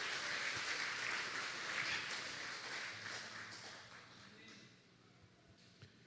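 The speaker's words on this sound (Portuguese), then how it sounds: "Aplauda o Senhor." Congregation applause during a church service fills the space with dense, steady clapping, loud at first and gradually thinning and fading toward the end, with a few scattered claps left at the close.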